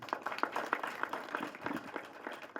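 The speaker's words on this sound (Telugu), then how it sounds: "వాళ్ళ కోసం గట్టిగా చప్పట్లు ఒకసారి" Audience clapping at a Telugu film pre-release event, a scattered round of applause at moderate distance with irregular hand claps and a little background voice.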